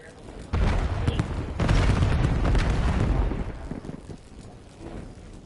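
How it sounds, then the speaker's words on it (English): An EMP grenade goes off in Call of Duty Black Ops 7 as a pair of heavy, rumbling bursts. A loud blast about a second in is followed by a longer roar that fades out gradually. "EMP grenade going out"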